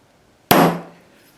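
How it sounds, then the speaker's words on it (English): A single sharp metallic strike as a hammer drives a center punch into a copper wiring terminal, a loud close ring that decays within about half a second, with no talk. "I'm going to center or punch a center punch mark in the middle of this flat area"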